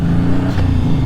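A 1978 Yamaha XS750 motorcycle engine runs under way, a steady mid-pitched drone with a slight rise in revs, close and loud with wind rumble and no talking.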